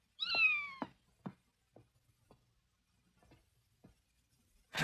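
A kitten gives one clear, close meow that falls in pitch, followed by several faint clicks and small knocks in an otherwise quiet room.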